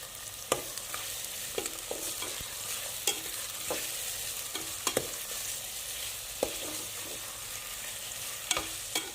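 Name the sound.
chopped onions frying and being stirred in oil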